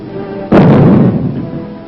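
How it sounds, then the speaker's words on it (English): Atomic bomb bursting over Hiroshima in archival wartime film: a sudden loud, heavy boom that lands abruptly and then rolls on as a dense, sustained rumble without letting up. "the first atomic bomb struck an enemy target"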